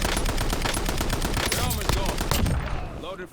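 Rapid, loud gunfire from a gun on a festive holiday map in Call of Duty Black Ops 7, dense bursts of shots packed together almost without pause, with a voice talking faintly underneath.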